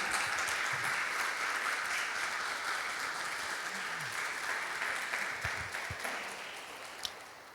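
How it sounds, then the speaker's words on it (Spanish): A church congregation claps together in a sustained, even roar that fills the room at moderate loudness and slowly tapers toward the end, with scattered louder claps standing out. "¿Y por qué no le damos un aplauso a todos los que están en Facebook y YouTube?"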